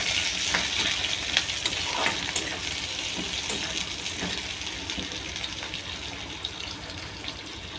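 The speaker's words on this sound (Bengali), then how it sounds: "পেঁয়াজ কুচি করে এটা একটু হালকা করে ভেজে নেবে" Chopped onion fries lightly in a pan for an egg dish, a steady close hiss and sizzle with faint crackles that runs unbroken throughout.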